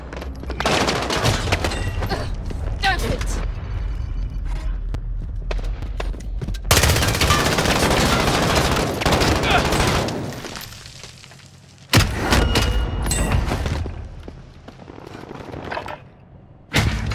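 Heavy gunfire in a Call of Duty: Modern Warfare firefight, with dense bursts of automatic fire and single shots that crack loud and close, broken by brief lulls and then renewed volleys.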